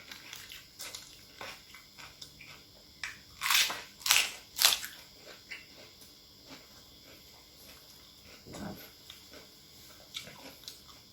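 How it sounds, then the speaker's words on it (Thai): Crisp fresh garden vegetables served alongside a spicy Thai pork sausage salad are bitten and chewed up close, with a cluster of sharp crunches in the middle and quieter chewing before and after. "กัดผักสะใจมากอ่ะ มันกรอบ"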